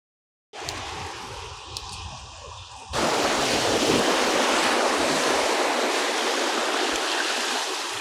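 Loud, steady roar of sea waves breaking close by, wind-buffeted and continuous, growing noticeably heavier after the first few seconds with no voices.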